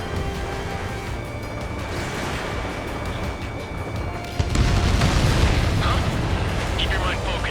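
A deep explosive boom as an enemy transport is destroyed in the combat flight game Ace Combat 7, rising suddenly over steady jet engine roar and radio chatter.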